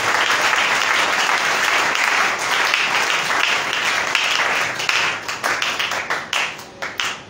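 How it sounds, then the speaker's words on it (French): A church congregation applauding loudly and continuously, the clapping thinning into scattered separate claps near the end. "Ok, acclamez pour ces écritures."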